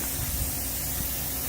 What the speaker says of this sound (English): So we're going to spray 3 coats on this.